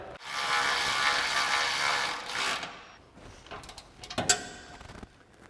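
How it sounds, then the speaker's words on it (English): Ratchet with a 13mm socket tightening an exhaust mount bolt on a Jeep Gladiator JT, a dense burst of rapid clicking for over two seconds, then scattered sharper clicks and knocks, close up with no talk. "Then you can take your 13mm socket and tighten this down."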